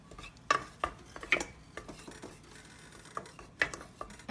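A spoon stirs turkey meatballs in sauce in a pan, irregular clinks and scrapes of utensil on metal at a close, moderate level, with soft wet swishing between the knocks.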